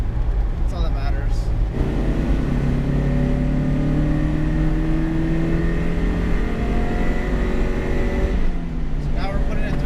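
A Mazda Miata with a small 1.6-litre engine accelerates on a test drive, its engine note climbing through rising revs in repeated pulls with a shift break, heard from inside the car with a voice over the start.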